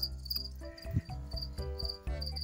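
Crickets kept in a home cricket enclosure chirp steadily in close, loud, rapid pulsing trills that overlap and fill the whole stretch without any speech.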